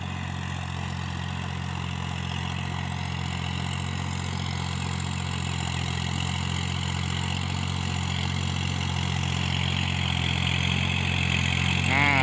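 Kubota L3608 tractor engine running steadily while tilling grass in a rice field, a constant low rumble with strong harmonic drone and no talk, holding even and close throughout.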